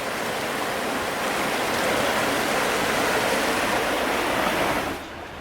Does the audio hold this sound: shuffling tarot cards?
no